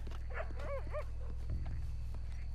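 A dog barks and whines a few times in Red Dead Redemption 2 over a steady low game hum, mid-distance, with no talking.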